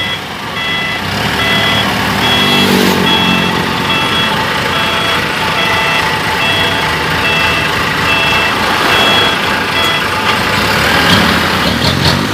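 A dump truck hauling stones sounds steady reversing beeps over its rumbling, idling diesel engine, close and loud throughout with no talk.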